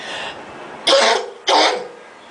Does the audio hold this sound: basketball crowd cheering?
no